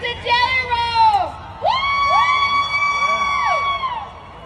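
A concert crowd cheers and whoops in two loud swells with high shouted voices, the second burst longer before fading.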